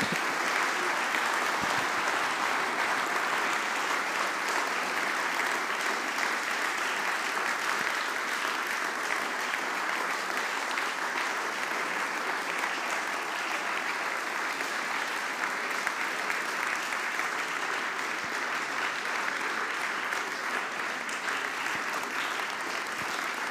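Sustained audience applause after an economics lecture by Adam Tooze at an SIAF event, dense steady clapping filling the room for the whole stretch without pause.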